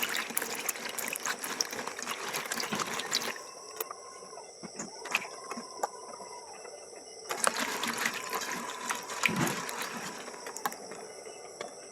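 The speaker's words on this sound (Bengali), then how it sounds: "জল দিয়ে ধুয়ে নেবো ভালো করে দু তিনবার পরিষ্কার করে নেবো" Jujube fruits sloshed and rubbed by hand in a basin of water, a continuous wet splashing and clinking that stays fairly close and steady throughout, with brief louder swirls.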